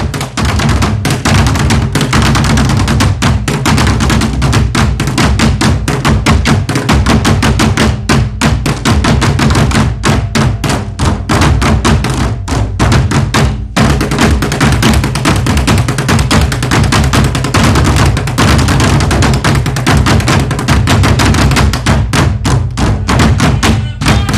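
Dense, steady drumming by the Ballet Inganzo troupe at a performance in Lewisham, London, with constant thudding hits and bright cymbal wash, loud and continuous throughout with barely a pause.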